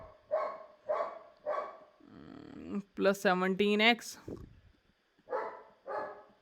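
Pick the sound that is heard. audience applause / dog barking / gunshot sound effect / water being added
dog barking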